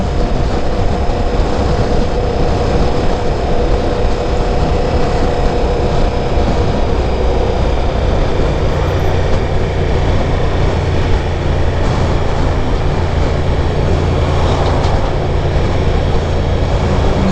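A Ducati Diavel V4 motorcycle engine under way, a loud, continuous close drone with wind rush over it, the tone shifting slightly partway through as it is taken up to fourth gear and held just under 4,000 rpm.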